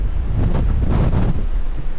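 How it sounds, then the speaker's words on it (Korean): Strong gusting wind buffets the microphone on a rocky ridge of Seoraksan's Dinosaur Ridge, a loud, continuous low roar that swells and surges for the whole stretch with no voices. "바람에 내가 밀리는 게 느껴져"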